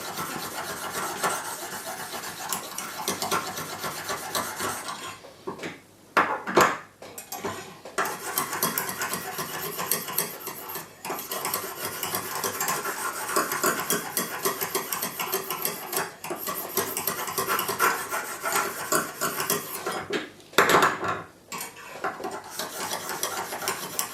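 Knife blade drawn steadily across a Lansky guided sharpening system's stone, a continuous close rasping scrape with brief pauses between stroke sets, no talking.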